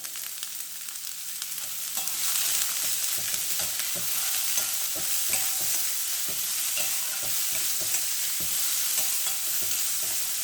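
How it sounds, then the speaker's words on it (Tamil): Green beans with salt fry in oil as they are stirred, with a loud, steady sizzle and a regular run of scraping utensil strokes close by. "நல்லா மிக்ஸ் பண்ணிடுறேன் இந்த எண்ணெயிலே"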